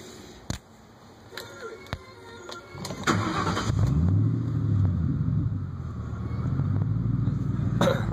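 A supercharged 1998 Ford Mustang GT with a Roush supercharger swap gives a few clicks, then cranks and fires up about three seconds in, settling into a steady, close rumbling idle with no talking.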